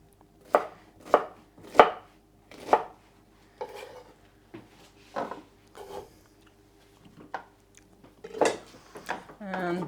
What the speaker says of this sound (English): And just cut them into chunks.